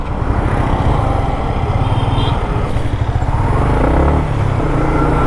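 A Yamaha MT-15 motorcycle on a road test gives a steady, close engine drone that holds a constant throb for the whole stretch, with no talking.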